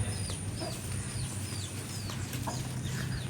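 An Aseel hen leads her two young chicks, with repeated thin, high peeps over a steady low hum of background noise.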